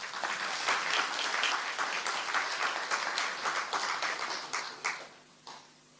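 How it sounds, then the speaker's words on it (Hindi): Audience applause fills a spiritual class hall, a steady dense patter of many hands clapping together that swells and holds, then thins out and fades near the end. "तालियां तो बजाओ जरा।"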